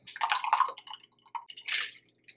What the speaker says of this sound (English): We're going to pour all of this, the ice that we just used to shake, the lime, the sugar, the cachaça, all of it directly into our glass.